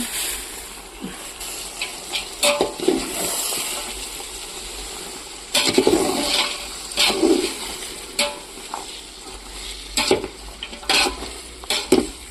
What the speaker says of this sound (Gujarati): ગવાર ને વટાણા નાખી દીધા અમે